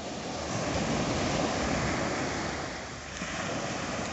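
Night surf breaks on the shore at Waikiki Beach in Honolulu, a continuous, fairly soft wash of waves rolling in with a gentle swell and ebb, no voices over it.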